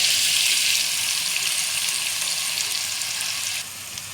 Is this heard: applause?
no